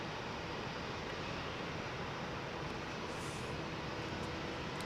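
Aircraft operating at London Heathrow Airport, heard as a steady, loud broadband roar of jet engines that holds evenly throughout with no talk.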